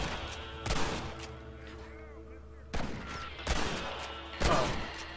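Gunfire in Red Dead Redemption during a multiplayer shootout: several sharp shots crack out in uneven bursts, some close and loud, others fainter, with reverberant tails between them.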